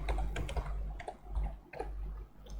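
Keys clatter in quick irregular bursts on a computer keyboard, close and fairly quiet, with a steady low hum underneath.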